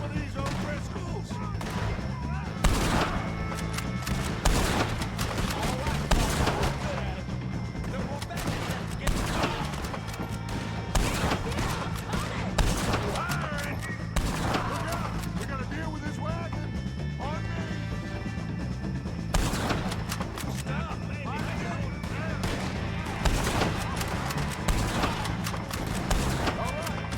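Repeated gunshots crack through a shootout against O'Driscolls in the game Red Dead Redemption 2, bursts scattered across the whole stretch amid galloping hooves, crashes and frequent shouting voices.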